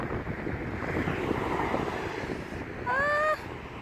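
Wind blowing outside glass windows of a quiet hotel near a highway in Amsterdam, a steady broadband rush with a brief tonal whine near the end.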